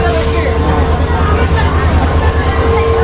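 Indian express train running on the line toward Dadar, Mumbai, heard from on board as a steady loud rumble with rhythmic low clatter and a faint tonal whine, continuous throughout without talk.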